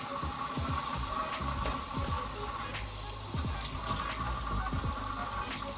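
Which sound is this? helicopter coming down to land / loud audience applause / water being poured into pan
water being poured into pan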